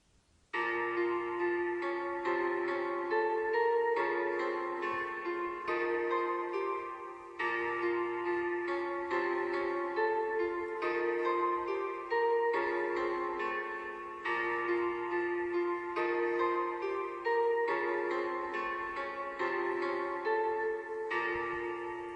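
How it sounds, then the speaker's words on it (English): A bright, bell-like synth UK drill melody loops steadily with plucky, repeating notes in a dark, even pattern, with no voices over it. "It sounds like this, the main melody."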